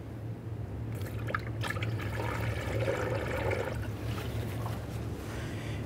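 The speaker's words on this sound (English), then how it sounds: "We'll put in a little bit more brand new coolant and we'll let it burp out in the system." Fresh coolant trickles through a funnel into the radiator of a 2002-2009 Chevrolet Trailblazer with the 4.2L inline-six engine. The liquid gurgles softly and steadily over a low background hum.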